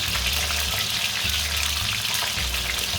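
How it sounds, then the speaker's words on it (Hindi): Cauliflower sizzles and fries in a small amount of oil in a pan, making a steady, close crackle with low rumbling underneath. "तो हल्के हल्के हम गोभी भी इसमें फ्राई कर देंगे"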